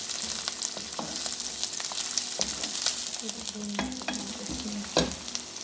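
Green chillies fry and sizzle in a pan for a ridge gourd dish, a steady close crackle broken by the clatter of a spoon stirring at irregular intervals, with no talk.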